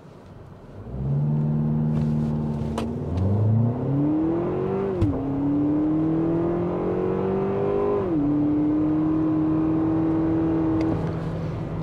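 A 2024 Lexus TX 350 all-wheel-drive SUV in sport mode launches from a brake-torqued start in a 0 to 60 run, its engine note climbing steadily through the gears with brief dips at each shift, loud and close.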